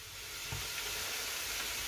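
Meat browns in a pot for Moroccan couscous with tfaya, giving a steady, close, dense sizzle and hiss with a few soft stirring knocks, and no talking.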